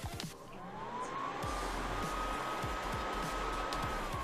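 A PS3 console's cooling fan spins at maximum speed, a loud steady whir that ramps up and then holds a constant high-pitched tone, running alone with some faint knocks underneath.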